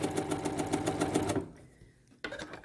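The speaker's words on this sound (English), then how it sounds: "I'm just sewing along the edge." A domestic sewing machine runs in a steady, rapid stitching rattle as it sews along the edge of a bias-cut fabric scarf, then stops and briefly restarts close by.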